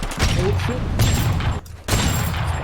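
A musket fires with a loud, sustained crack and roar amid a busy, noisy scene, with a second blast following after a brief dip, and voices mixed in the din.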